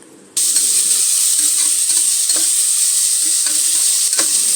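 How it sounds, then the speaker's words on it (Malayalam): Chopped onion and tomato sauté in a pan for a simple chicken curry, bursting into a loud, continuous sizzle after a brief quiet start, with occasional scraping stirs of a spoon against the pan. "അതിലേക്ക് നമ്മൾ കട്ട് ചെയ്ത് വെച്ച തക്കാളി ഇട്ടിട്ട് രണ്ടും കൂടി മിക്സ് ആക്കിയിട്ട് വഴറ്റുക"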